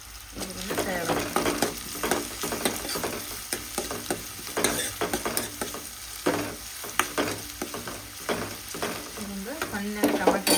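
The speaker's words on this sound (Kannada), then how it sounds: "ಚಲೋ ಫ್ರೈ ಆಗಲಿ ರೀ. ಸ್ವಲ್ಪ ಇದ್ರೊಳಗೆ ನಾನು ಕಸ್ತೂರಿ ಮೇಥಿ ಹಾಕೀನಿ ರೀ. ಇದನ್ನು ಫ್ರೈ ಆಗಬೇಕು." Onions and kasuri methi fry in a pan, with steady sizzling broken by repeated scraping and stirring strokes, close and moderately loud.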